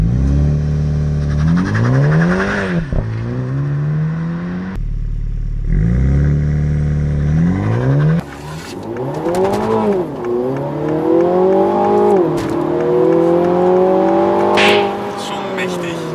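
A 2021 MINI JCW GP accelerates hard on the Autobahn. The loud, close engine climbs steeply in pitch through repeated gear changes, with brief drops between pulls and a sustained high-revving run at the end. A voice talks intermittently underneath.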